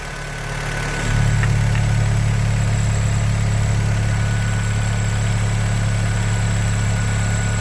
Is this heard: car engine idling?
yes